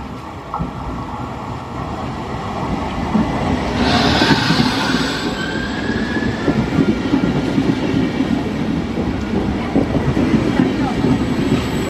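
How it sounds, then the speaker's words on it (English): A train runs along the Cinque Terre line toward Riomaggiore, its steady loud rumble and clatter filling the cabin with a brief high wheel squeal partway through. "after a short 2-minute train ride, we made it to the final destination, Rio Maggiore"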